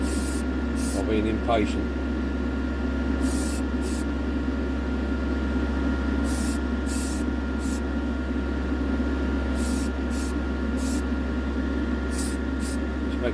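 An aerosol spray can puts a light coat of paint on a 1963–68 Corgi Toys diecast VW Karmann Ghia 1500 under restoration, in short repeated on-off bursts over a steady background hum while someone talks.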